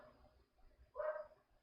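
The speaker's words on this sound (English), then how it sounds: "You guys can probably hear my dog barking now that I turned the noise gate off" A dog barks once in the background at home, a short, faint bark that briefly rises above quiet room tone.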